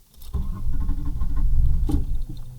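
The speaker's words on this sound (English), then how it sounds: "That fuel pump sounds really weird." A 1993 Ford Taurus with a fuel problem runs roughly, its engine and fuel pump giving a loud, uneven mechanical rumble with a patter. The sound carries on steadily for a couple of seconds, with a brief surge near the end.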